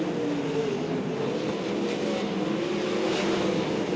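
Sprint cars racing at Archerfield Speedway, a steady droning engine roar with sustained tonal whine, distant and continuous without a break.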